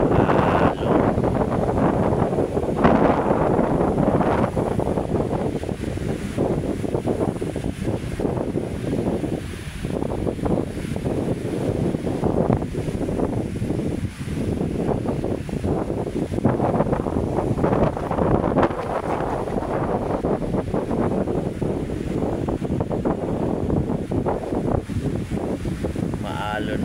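Strong wind buffets the microphone along the shore of Manila Bay while rough waves churn and wash continuously underneath, with a person talking over the roar.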